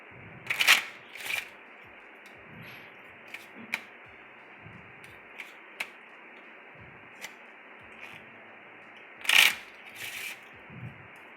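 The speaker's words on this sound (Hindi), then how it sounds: "तो मैं पहले शफल कर लेता हूँ सारे कार्ड्स को अच्छे तरीके से।" A deck of playing cards is shuffled by hand for a magic trick, giving short papery riffling bursts near the start and again near the end, with faint ticks in between and no talk.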